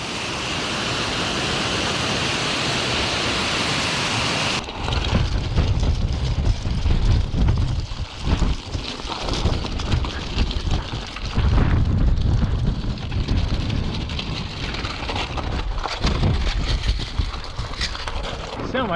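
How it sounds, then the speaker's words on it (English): A flash flood surges through a normally small, quiet creek on a mountain trail, a loud, continuous broadband roar of rushing water that shifts in texture and stays strong throughout. "Oh, we got flash flood, folks."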